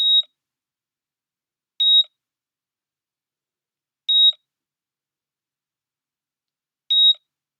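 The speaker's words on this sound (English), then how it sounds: "now we're getting quite a nice heart monitor display with authentic sound effects" Four short electronic heart monitor sound-effect beeps at one steady pitch, spaced a couple of seconds apart with silence between.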